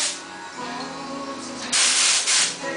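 An automotive spray gun sprays basecoat paint onto test paper after the flow and air settings are wound in, giving a steady broadband hiss that swells louder in two bursts near the end.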